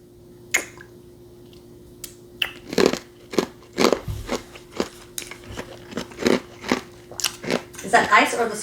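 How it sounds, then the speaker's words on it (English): Ice and an edible scorpion being chewed up close, a run of sharp, crunchy bites repeating at an uneven pace over several seconds, with a brief voice near the start. "Is that ice or the scorpion? Half and half. I'm chewing ice."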